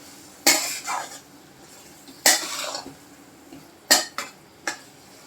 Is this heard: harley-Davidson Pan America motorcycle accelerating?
no